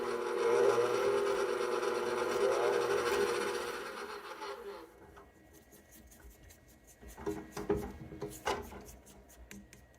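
A KitchenAid stand mixer runs on yeast and psyllium dough for egg white bread, giving a loud, steady motor whir for about five seconds before cutting off, leaving quieter clicks and handling noises.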